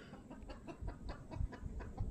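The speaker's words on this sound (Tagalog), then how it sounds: "Ayan yung manok na naglilimlim." A brooding hen sitting on a stove clucks in a soft, low, steady series of short throaty pulses close by, with no speech over it.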